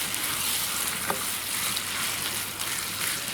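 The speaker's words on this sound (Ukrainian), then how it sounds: "Ось такі вони, виходить, гарно обсмажуються шматочки. І фарша, і овочів." Minced meat and zucchini pieces sizzle steadily in a hot pan, a close, even hiss of frying with a faint stir or two.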